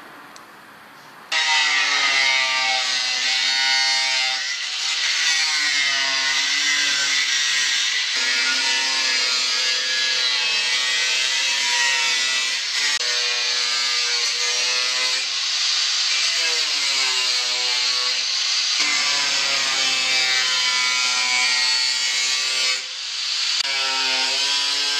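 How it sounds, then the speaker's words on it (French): Loud, steady power-tool cutting into metal on a Citroën C15 under restoration, a continuous high whine with shifting tonal sweeps that runs nearly unbroken for about 23 seconds, close to the microphone. "Je vais voir le plus loin où il faut que je coupe ici."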